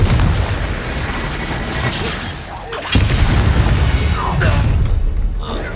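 Confringo fire spell blast in Hogwarts Legacy, a loud booming, shattering burst over dense, rumbling combat noise, with a second surge about halfway through.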